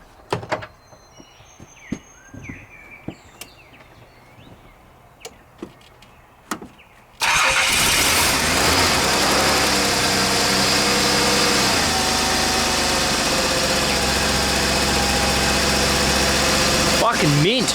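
A VP car engine cranks and fires after a heater hose replacement, then settles into a loud, steady idle close by, after some quiet clicks and handling noises.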